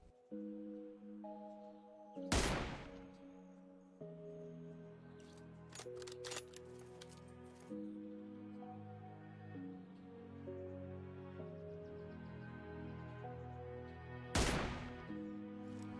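A sniper rifle in PUBG Mobile fires two sharp, loud single shots about twelve seconds apart, with game sounds and music tones droning in between.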